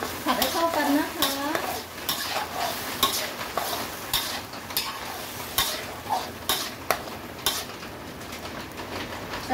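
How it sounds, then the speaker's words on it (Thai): Minced pork with white soy sauce and a little salt is stir-fried in a pan, with continuous sizzling, repeated scraping of a utensil against the pan and rhythmic stirring clatter. "ผัดให้เข้ากันนะคะ"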